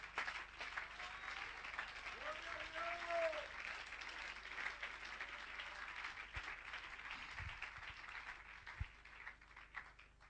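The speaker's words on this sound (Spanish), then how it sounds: "Denle un aplauso a Jesucristo" A church congregation claps in faint, sustained applause during a service, a soft, distant wash of hands with a brief voice or vocal tone rising briefly in the middle and a few low thumps near the end.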